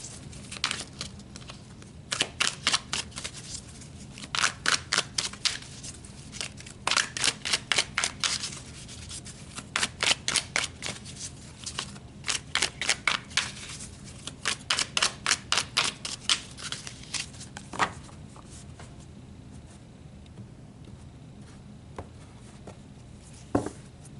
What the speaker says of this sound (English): So let's pull some more cards to look at you spiritually.